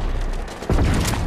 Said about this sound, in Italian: Una mitra. Amico, hanno aggiunto sta mitra di nuovo.